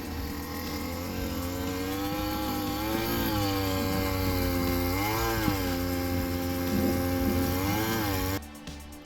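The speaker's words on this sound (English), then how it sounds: "Digging the post holes for the 6x6 posts that we use. I used that auger post hole digger" An engine-driven auger post hole digger bores holes for 6x6 posts in a backyard, with a loud, continuous droning motor whose pitch dips and rises as the auger loads and frees up.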